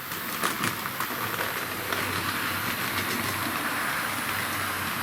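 A Tri-ang Super 4 model diesel electric train runs slowly on a DC layout, with a steady close rumble and a faint rhythmic clicking of wheels over track joints, continuous and alone.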